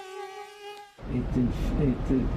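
A mosquito buzzes in a steady, thin whine with a wavering pitch, close and fairly loud, following a sustained tonal note that cuts off abruptly.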